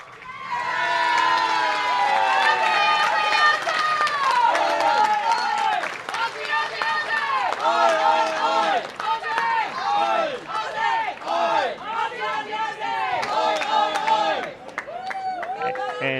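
Spectators at a senior world bowling championship medal round cheer and shout loudly after the final shot, an excited burst of many voices with scattered clapping, sustained and close, easing toward the end.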